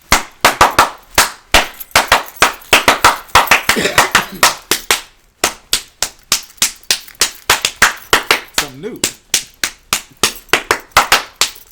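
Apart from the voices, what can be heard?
hands clapping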